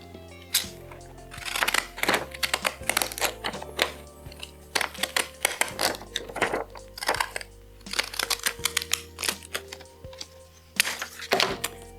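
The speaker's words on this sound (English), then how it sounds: "now I'm going to take my first circle, my largest one, and overlay it on a stack right over the words and just cut it out." Scissors snip through a thick stack of old book paper to cut out a circle, giving a series of crisp, close, irregular crunching cuts separated by brief pauses and paper rustles.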